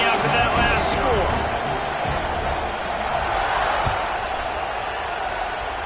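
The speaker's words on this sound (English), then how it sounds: "this crowd is buzzing after that last score" A college football stadium crowd at a Texas A&M versus Florida game keeps up a broad, steady buzz after a touchdown, with a few scattered louder shouts rising over the continuous murmur.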